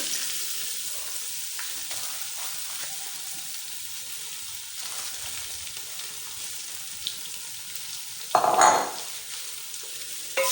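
Guar beans are stir-fried in masala over low heat, giving a steady soft sizzle with faint stirring scrapes throughout and a louder scraping clatter near the end, with no voices.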